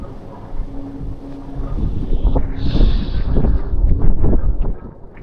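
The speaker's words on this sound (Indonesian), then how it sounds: "Anginnya." Gusty wind buffeting the microphone outdoors on a walk in Japan, a loud low rumble and roar that swells and eases over a few seconds with no one speaking.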